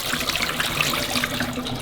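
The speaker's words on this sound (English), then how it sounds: "empty out the condensate tray and I'm just going to pour this out" Water tipped from the condensate tray of a Delonghi Magnifica S coffee machine splashes steadily into a sink, a close, continuous pour lasting under two seconds with no voices.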